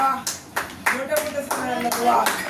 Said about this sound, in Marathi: तिकडं टाळ्यांचा गजर झालेला आहे